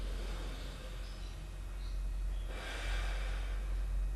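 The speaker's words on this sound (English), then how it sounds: "It's the 2nd exhale left." A slow, soft breath is exhaled through the left nostril during alternate-nostril pranayama yoga breathing. The airy hiss is close and quiet, and it swells toward the end.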